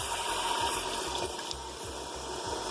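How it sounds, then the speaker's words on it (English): Stock poured into a cooked roux for potato-leek soup, a steady liquid rush and gurgle with a low churning undertone, close and continuous with no talking. "When the roux is done, add half of your stock."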